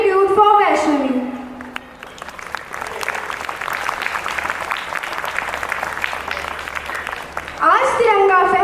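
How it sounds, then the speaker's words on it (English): An audience claps for Vaishnavi at a Republic Day program, a dense, even patter of applause lasting several seconds between stretches of a speaker's voice at the start and end. "Let's have a resounding cheer of gratitude for Vaishnavi."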